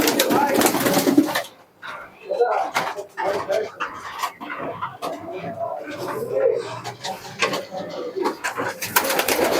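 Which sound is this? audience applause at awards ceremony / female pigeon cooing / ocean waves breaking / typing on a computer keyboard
female pigeon cooing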